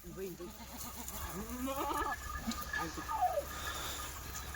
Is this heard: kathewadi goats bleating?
yes